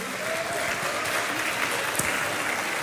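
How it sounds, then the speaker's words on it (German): Big round of applause from an audience at a lively outdoor folk music gathering in Lower Austria, dense and steady clapping at moderate level with one sharper clap standing out. "Einen großen Applaus"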